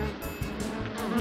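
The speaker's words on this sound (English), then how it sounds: "A bee makes a buzz sound." A bee buzzes in a steady, close insect drone lasting about a second, alone with no voices.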